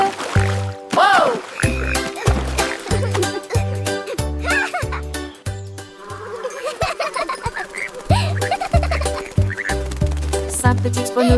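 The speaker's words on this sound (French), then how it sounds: "Puis ils coassèrent une chanson et la nuit devint grise." Frogs croaking in a children's nursery song, their croaks woven through a bouncy rhythmic music track with a steady beat, loud and close throughout.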